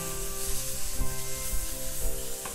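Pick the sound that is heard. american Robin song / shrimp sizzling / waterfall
shrimp sizzling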